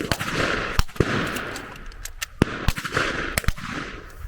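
Bursts of gunfire from a simulated attack by soldiers in German uniform in woodland. Sharp, loud cracks sound irregularly over a steady blowing hiss, a few single shots and short volleys close by.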